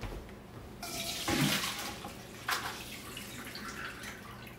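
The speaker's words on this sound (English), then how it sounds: "I'm just gonna strain the water" Water from cooked quince with lemon juice is poured off through a strainer, giving a steady rush and splash that starts after a quiet moment and runs on continuously, with one sharper splash partway through.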